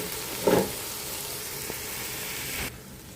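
An egg fries in a pan, a quiet steady sizzle with a brief louder crackle near the start before the sound cuts off.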